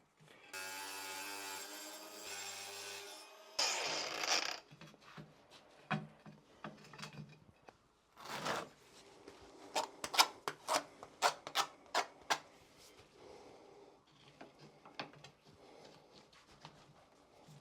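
A ceramic shower-niche tile being notched: an opening burst of loud grinding cuts, then a run of sharp rasping scrapes and ticks in an irregular rhythm, heard close with quiet gaps between strokes.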